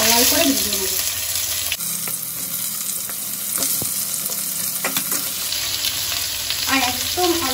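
Pointed gourd (potol) pieces frying in a little oil left after frying bata fish, a bright continuous sizzle that grows louder midway, with occasional spatula scrapes and stirring, close up, a voice faintly in the background at times.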